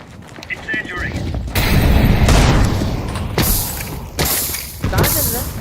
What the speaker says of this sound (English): Incendiary.